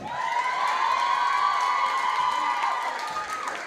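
A large crowd at a charity talent show cheers and shouts steadily, a sustained roar of voices with scattered whoops and clapping throughout.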